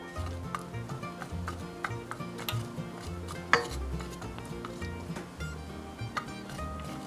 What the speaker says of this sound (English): Now I'm adding my cup of chopped carrots. And I'll stir these around.